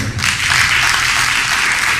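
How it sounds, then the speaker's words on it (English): A crowd at a ribbon cutting ceremony claps in a loud, steady burst of applause from start to finish. "Again, another round of applause for that."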